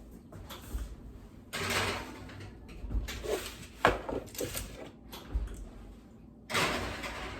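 An oven door opens and trays of Italian meatballs slide in, with several bumps, scrapes and clunks close by in a home kitchen.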